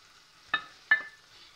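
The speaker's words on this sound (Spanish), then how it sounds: "Y ahora tenemos que empezar a remover." A spoon stirs potatoes stewed in wine with ribs in a cooking pot, giving two short, distinct scraping knocks about a third of a second apart over a quiet background.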